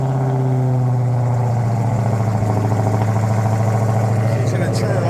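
A Dodge Charger Hellcat Redeye V8 idles loudly up close with a deep, steady, throbbing rumble and rhythmic exhaust pulses, running without a break and with no talk over it.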